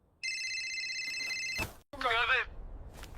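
A mobile phone rings with a bright electronic tone for over a second, then stops; someone speaks right after.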